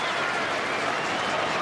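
A Hawthorn Australian football crowd applauds at the stadium, a dense, steady wash of clapping and murmur that holds at an even level throughout the short stretch.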